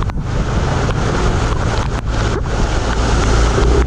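A loud, steady rush of churning water mixed with wind buffeting the microphone as a Yamaha NMAX 2020 scooter pushes through deep floodwater on a highway during a typhoon.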